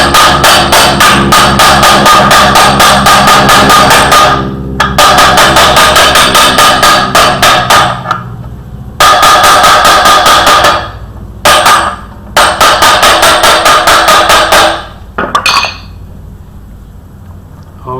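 A hammer taps a timing cover into place on a Ford 302 5.0 V8 engine, loud rapid bursts of sharp metallic blows with short pauses between runs.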